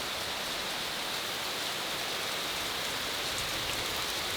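Heavy hurricane rain from Ida pours down steadily outdoors near a flooding gutter, a dense, loud, unbroken hiss of downpour filling the whole scene for several seconds with no voices.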